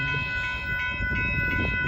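Northbound Union Pacific auto train passing Dittmar Road in Austin, Texas, with a steady rumble of rail cars and a faint high tonal ring throughout, continuous and fairly close.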